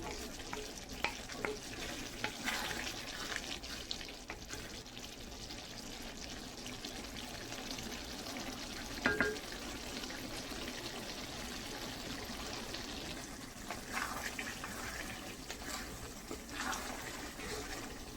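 Okra fries in a pan over raised heat to drive off its water, giving a continuous close sizzle with bursts of crackle and a few stirring clatters, and no talk over it.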